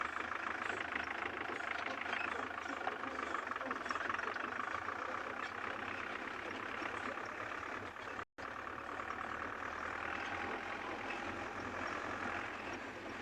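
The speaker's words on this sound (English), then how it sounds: "Yes, Samuel, some cars are very loud." A safari vehicle engine runs continuously on a game reserve with a steady rough drone, cutting out for a split second before resuming at the same level.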